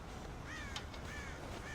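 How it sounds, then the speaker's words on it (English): Crows caw in the Red Dead Redemption video game, a few harsh calls repeating at a moderate distance over a steady outdoor ambience near a farm silo. "God damn crows!"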